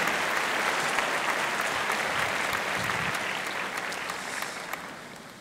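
An audience at the inaugural ceremony of a conference session claps during a speech, a dense, steady patter of many hands filling the room for the whole stretch and easing off slightly toward the end, with no talking over it.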